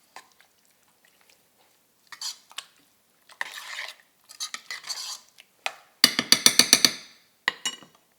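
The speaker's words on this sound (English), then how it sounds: "let's give this one last stir" A metal spoon scrapes and clanks against a pot while shepherd's pie filling with lamb is stirred, in scattered close strokes ending in a quick run of rhythmic knocks.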